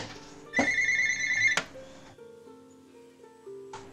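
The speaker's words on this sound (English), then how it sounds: "I'm getting a phone call." A mobile phone rings indoors with a bright electronic melody. It plays as a few bursts of sustained tones, then a softer trailing phrase.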